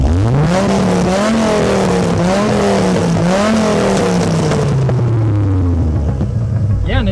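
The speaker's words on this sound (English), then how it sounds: "thanks to our friend Brendan, I am behind the wheel of a 1995 Dodge Viper RT10, the first generation of the Dodge Viper with a V10 engine and 400 horsepower" 1995 Dodge Viper RT/10 with its 400-horsepower V10 engine accelerating hard through several rising gear pulls, a loud, close, throbbing roar that climbs and drops in pitch before trailing off.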